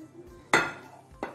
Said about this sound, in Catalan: vigilant que no ens cremem, que el recipient crema molt, li donarem la volta